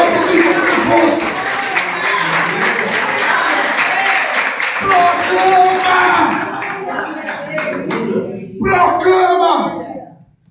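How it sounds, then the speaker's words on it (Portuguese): Church congregation applauding during a Portuguese-language worship service, loud sustained clapping mixed with shouts and crowd voices, dropping off toward the end with a few scattered claps. "Pode aplaudir Jesus."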